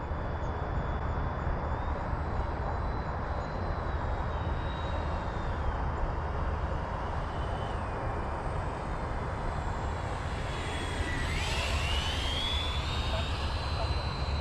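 A Freewing T-45 Goshawk 90mm electric ducted-fan RC jet flying at half throttle, a steady whining rush over outdoor noise that rises and sweeps in pitch as it turns and passes near the end.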